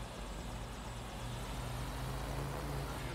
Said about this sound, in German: Oh Gott, da ist eine Drohne.